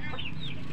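A Pakistan Aseel or Brazilian Shamo hen clucks in a backyard, a short close call with a couple of sharp rising notes.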